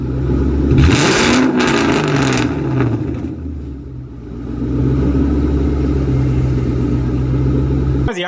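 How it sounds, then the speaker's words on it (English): A Foxbody Ford Mustang with a Cobra engine swap, X pipe and Flowmaster muffler delete idles loudly up close, a deep steady rumble with a brief rev near the start. "I put an idle clip on right there, guys, so y'all can hear an idle"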